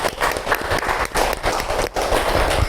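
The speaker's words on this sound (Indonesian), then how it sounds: "Tepuk tangan untuk kita semua" Classroom applause from students after a teacher's lesson on cabling, IP configuration and file sharing, a dense burst of clapping filling the room for a few seconds, close and fairly loud.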